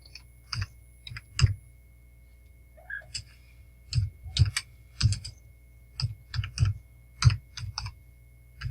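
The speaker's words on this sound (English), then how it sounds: "I am pitiful at typing" Someone types on a computer keyboard in short irregular bursts of clicking keystrokes, close and fairly quiet, with pauses between clusters and no talking.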